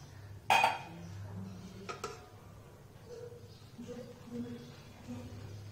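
Basmati rice scooped out of an electric rice cooker on warm mode, with a sharp metallic clink of the spoon against the pot followed by a softer knock, then quiet scraping and low room hum.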